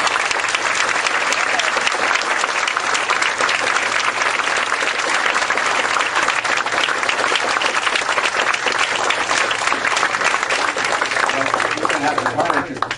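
Dense, sustained applause from a packed audience greets Howard Dean at a crowded book signing at Politics and Prose, steady clapping filling the room for the whole stretch without pause.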